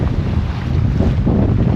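Strong wind roars over a sailboat at sea, a loud, steady rush of wind buffeting the microphone with waves washing underneath and no voices.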